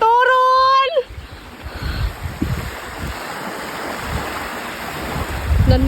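Ocean waves and wind roar at a beach, a steady loud wash with low gusty rumbles, after a brief tonal sound in the first second.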